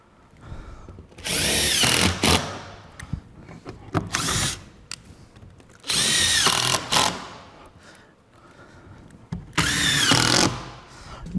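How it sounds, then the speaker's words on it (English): Power drill backing screws out of a tile underlayment layer, three loud whining bursts of a couple of seconds each separated by short pauses with small clicks and handling noise, close up and alone. "We can now pull these screws out"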